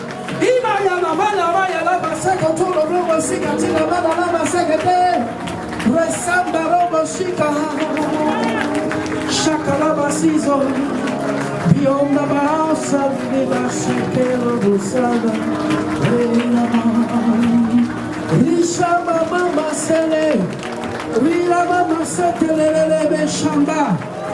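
A church congregation claps continuously through a loud evangelical worship service, the applause blended with a voice and sung or musical tones throughout.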